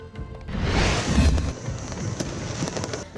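A New Year grand fireworks display over Iloilo City's Freedom Grandstand fills the air with a dense, continuous roar of crackling bursts and booms, loud and sustained with scattered sharper pops.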